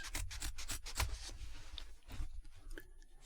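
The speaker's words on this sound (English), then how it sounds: "I'm not used to cutting this much with the scissors" Scissors snip repeatedly in quick, crisp cuts through fabric, close up, with a few rustling pauses between strokes.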